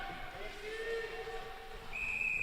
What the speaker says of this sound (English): going to be a whistle here on the play